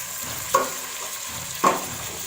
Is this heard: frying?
yes